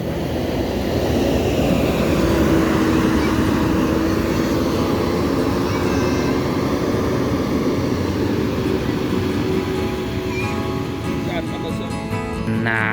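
A Jet Bus 5 Adiputro coach pulls into a bus terminal with a deep engine roar that swells and fades and a faint higher whine, while someone talks over it.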